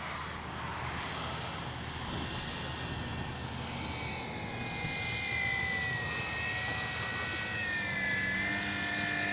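Electric Flex RV8 60E radio-controlled airplane flying overhead, a steady whining motor and propeller drone with shifting pitch as it passes, continuous and moderately distant outdoors.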